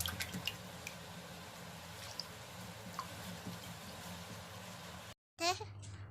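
Running water while soaked ingredients for neer dosa are washed by hand, a steady close splashing with small drips, cut off briefly near the end before a short louder burst.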